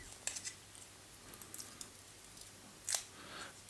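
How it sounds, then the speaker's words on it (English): A few quiet snips and crinkles of scissors cutting through plastic battery packaging, close by, with soft pauses between cuts. "cut the plastic on the batteries"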